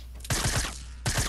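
Rapid bursts of video game gunfire from the player's own weapon, two close, loud volleys of quick repeated shots separated by a short pause.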